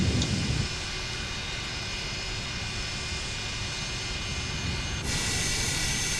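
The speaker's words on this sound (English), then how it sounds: "You can listen to those engines." MD-80 jet engines whine and roar steadily while the airliner taxis in a flight simulator game, a constant, loud drone that shifts slightly in tone partway through, with no voices.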